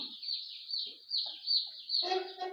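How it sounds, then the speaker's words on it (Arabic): Muscovy ducks and chickens kept indoors in a room, giving a thin, continuous high peeping with a few soft clucks and murmurs beneath it, close and moderately quiet, with no talking. "ده بط مسكوفي ار 111، اول مره اربيه"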